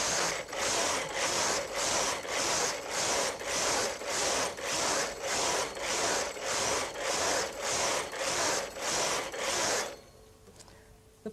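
The carriage of a Brother Electroknit KH 950i knitting machine sweeps back and forth knitting a two-colour pattern, giving about sixteen rhythmic, evenly spaced rasping passes. The sound then stops abruptly, leaving near silence.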